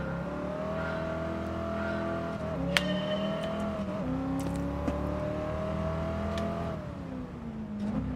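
A race car accelerates steadily around a Gran Turismo 7 track on comfort soft tires, its engine note climbing through gears with brief dips at shifts, loud and close with no talk.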